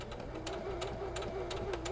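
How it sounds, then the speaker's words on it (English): Sewing machine back stitching along a quilt border on a tabletop, a steady fast motor whir with a constant hum and repeated needle clatter throughout, close and unbroken. "I'm going to stitch, back stitch"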